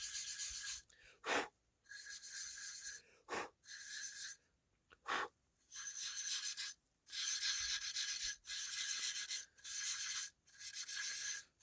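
Repeated raspy scraping strokes with a score pad across a turkey pot call surface, close up, in a steady back-and-forth rhythm with short pauses and a few sharp squeaky bursts.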